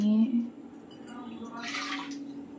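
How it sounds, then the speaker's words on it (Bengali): Water is poured into a cup for tea in a short, soft splashing burst of about half a second, heard over a low background hum after a brief tonal sound at the start. "জলটা নিতে গিয়েছিলাম, তো এর মধ্যে জল নিয়ে নেবো কাপের মধ্যে নিয়ে"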